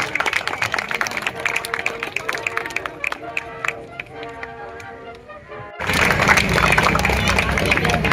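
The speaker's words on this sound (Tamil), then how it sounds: "அனைவரும் கரகோஷம் எழுப்பி சந்தோஷப்படுத்துங்கள்." Scattered clapping at a residents' welfare association Pongal festival, light and uneven under a speaker's voice at first, then a sudden burst of fuller, louder crowd applause.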